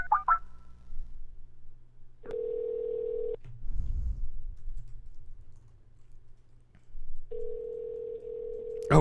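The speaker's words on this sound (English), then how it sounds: "call a physical number with Skype. If we can do that, call his phone." A Skype call to a phone number opens with a short burst of dialing tones, then two separate steady ringback tones with quiet gaps between them, faint handling noise in the pauses.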